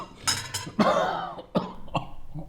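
A father coughs at the dinner table in a quiet indoor scene, a few close, harsh coughs spaced across a couple of seconds with brief raspy pauses between them.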